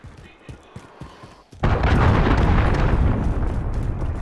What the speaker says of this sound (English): Allied cruise missile launched.